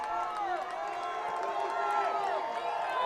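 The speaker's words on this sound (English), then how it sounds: "Crowd trying to make some noise for the Pirates here." Crowd at a college football playoff game making noise for the home Pirates, a broad roar with whistling and cheering tones, steady and moderately distant throughout.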